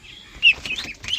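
Farmyard birds, a few chickens with ducks, giving short chirping calls and clucks close by, one sharper squawk near the middle, with no talking.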